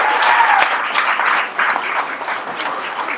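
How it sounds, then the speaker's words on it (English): A restaurant audience at Reba's Place in Oklahoma breaks into warm, steady applause for the chef, dense clapping from a modest crowd sustained for a few seconds. "Y'all give him a big round of applause."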